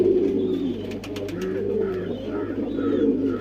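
Pigeons coo softly and continuously in a loft, steady rounded calls repeating over a low background hum, no talking.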